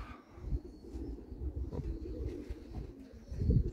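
Pearl-coloured Viennese pigeons out in a village, heard as low, soft, continuous cooing and murmuring with faint rustles, fairly close.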